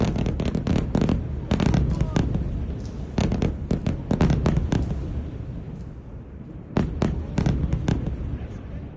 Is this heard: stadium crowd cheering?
no